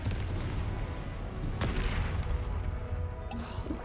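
A Confringo spell explosion in a Harry Potter video game booms in a dense, rumbling roar, with sharper blasts cracking through near the middle and end, loud and continuous.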